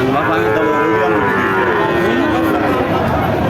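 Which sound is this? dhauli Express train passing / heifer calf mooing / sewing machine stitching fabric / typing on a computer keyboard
heifer calf mooing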